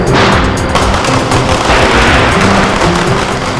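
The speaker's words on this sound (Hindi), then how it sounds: "पटाखे जलाते हैं" Firecrackers going off in rapid, dense succession at a celebration, a loud continuous crackle of overlapping bursts with no talk.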